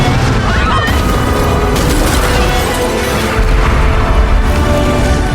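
A grenade blast in the superhero film Madame Web, a loud, continuous roaring explosion and crashing debris rumble filling the whole stretch without a clear pause.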